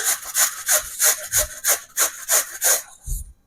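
A hand peeler scrapes fresh carrots for gajar ka halwa in a home kitchen, giving quick rhythmic rasping strokes about three per second. The strokes are close and fairly loud, and a soft knock follows near the end.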